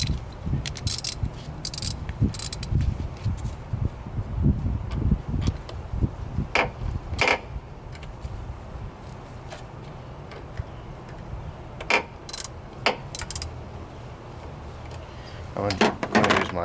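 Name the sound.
tightening down Ram 1500 battery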